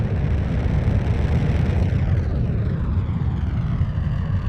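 A rocket engine in Kerbal Space Program gives off a loud, continuous, throaty rumble. The low roar is heavy and steady, with no talk over it.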